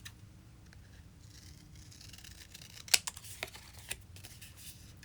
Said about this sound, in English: so I'm going to cut them down.